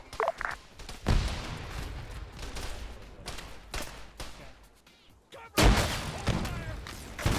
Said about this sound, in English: I think that was a dynamite explosion